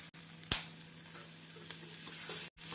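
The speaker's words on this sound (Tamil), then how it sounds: "இஞ்சி பூண்டு விழுது சேர்த்து 1 நிமிடம் நன்றாக வதக்கிய பின்னர் பச்சை மிளகாய் சேர்த்து விடலாம்." Onion, ginger garlic paste and green chilli sauté in a pan for a Tamil potato kurma, a soft continuous sizzle with a brief louder stirring scrape, close up and without talk.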